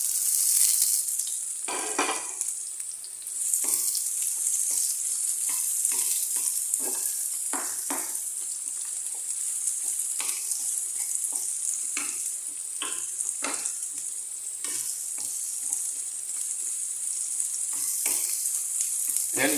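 Garlic and onion sautéing in a pan for adobong kangkong, a bright, steady hiss of oil with frequent spatula scrapes and taps throughout, close and continuous, no speech.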